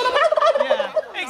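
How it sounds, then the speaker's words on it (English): A turkey gobbles in one quick, warbling burst of rapid, throaty calls, close and clear against a quiet background. "What does the turkey say?"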